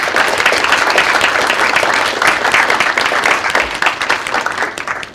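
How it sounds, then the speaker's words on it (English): An audience at an award ceremony applauds steadily, a dense wash of clapping from a full hall that fades near the end. "Please give them a round of applause."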